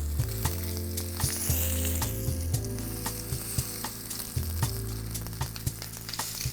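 Strip loin steak sears in a very hot heavy cast iron pan, with a loud continuous sizzle close by and repeated scrapes and taps as the meat is pressed down, and no voices.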